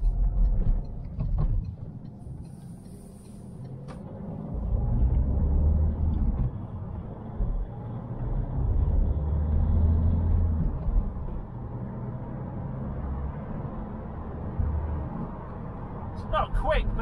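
Turbocharged car accelerating on a road test drive, a steady low engine and road rumble building and holding from inside the cabin, with a person talking over it.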